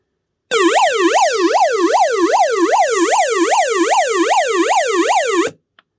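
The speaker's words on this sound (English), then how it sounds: "The alarm is only triggered when you push this button that is very recessed for a longer time." An emergency radio's built-in alarm wails with a loud, close, electronic siren that sweeps rapidly up and down in steady repeating cycles for about five seconds, then cuts off abruptly.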